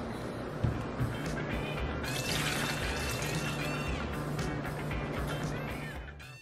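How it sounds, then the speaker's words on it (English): Almond milk pours into a blender for a peach, strawberry and pineapple smoothie, giving a close, continuous liquid gurgle with a couple of soft knocks at the start, no talking. "I'm going to add 1 cup of almond milk"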